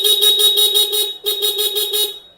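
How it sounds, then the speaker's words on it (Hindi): A motorbike's stock company-recommended horn honks in two blasts, a long one followed by another after a brief gap, loud, close and bright-toned. "बैक में जो कंपनी रिकमेंड हॉर्न है वो वर्क करे"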